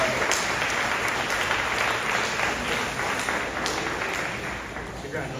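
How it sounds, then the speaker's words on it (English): Sustained applause from an audience of families at a fifth grade celebration for the cast and crew, dense clapping that runs about five seconds with a faint murmur beneath. "Face your families and see your first round of applause."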